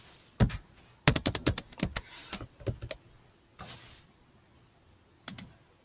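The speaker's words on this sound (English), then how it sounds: "I can just start typing, and those names could be coming right in." Bursts of close keyboard typing, quick clustered keystroke clicks separated by short pauses, with a final brief pair of taps.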